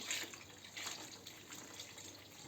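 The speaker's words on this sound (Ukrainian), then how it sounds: "Ось так заливаю жентицю." Whey poured over curds while making homemade hard cheese, a soft, continuous trickling splash that runs steadily throughout at low level, close by.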